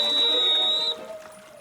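A sustained whistle blast in a video game, loud and steady for about a second before cutting off, over a low hum and faint background game sounds.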